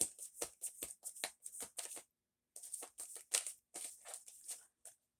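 Tarot cards are shuffled by hand in quick riffling bursts, close and crisp, with a short pause midway before the shuffling resumes.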